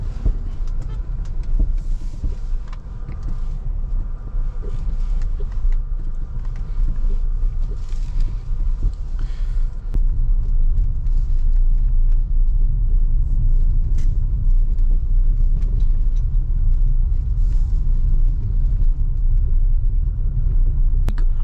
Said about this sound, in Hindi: तो इस पर मैं लेके चलता हूँ कार को एंड देखते हैं सस्पेंशन की क्या परफॉर्मेंस है।